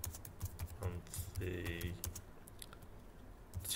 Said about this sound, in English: we just click on that and we type in mean